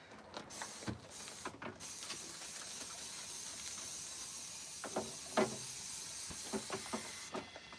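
A handheld spray bottle mists cleaner onto a shelf for storing boxes in an animal rescue room, giving a steady soft hiss with a few brief trigger pumps and light clatter, fairly quiet and with no talking.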